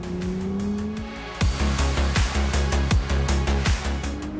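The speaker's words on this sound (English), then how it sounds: "this engine and powertrain launches the car from one corner to the next" Ferrari 296 GTS engine pulling hard on a mountain road: a rising engine drone gives way to repeated sharp, rhythmic bursts through quick gearshifts, loud and close with no talking.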